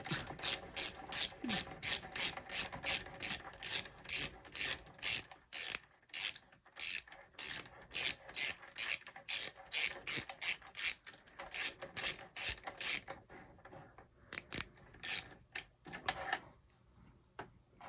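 A ratchet tool clicks in rapid, regular bursts while a helmet lock is screwed onto a Can-Am Ryker, close and crisp, then the clicking slows to a few scattered strokes before stopping.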